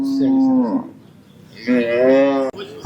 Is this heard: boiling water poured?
no